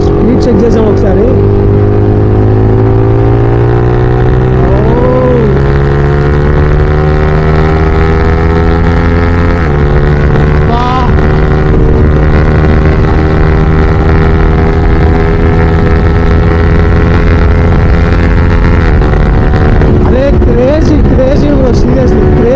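A motorbike engine drones loud and close during a fast speed run, its pitch climbing smoothly as it accelerates and then holding a high, steady whine, with brief shifts in tone along the way.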